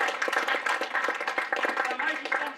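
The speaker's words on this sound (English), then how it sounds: "So just a round of applause for Chenzo." A club awards night audience claps in a round of applause for a team sponsor, steady dense clapping filling the room throughout at close range.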